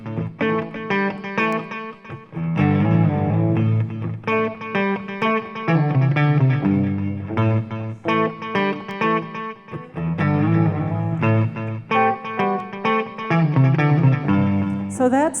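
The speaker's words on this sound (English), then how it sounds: "So that's the riff." A loud distorted electric guitar riff, chugging low chords and quick notes, repeated twice in a steady driving rhythm.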